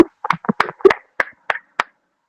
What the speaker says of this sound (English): So you guys should even clap for me small.